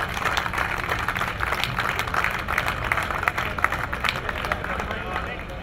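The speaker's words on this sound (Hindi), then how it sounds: "आपकी तालियां बताएंगी कि हम कितनी मोहब्बत करते हैं अब्बास ताबिश से।" Audience applause at an Urdu poetry gathering (mushaira), a sustained broadband patter of many hands clapping with crowd murmur underneath, steady and moderately loud throughout.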